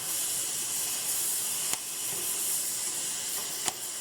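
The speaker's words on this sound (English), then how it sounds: "Now when it keeps popping like that, that's because I got some slag or something got in there." A welding torch hisses steadily while welding a spring seat repair, and its dirty nozzle, fouled with slag, gives two sharp pops. The hiss stays bright and constant, with no talk.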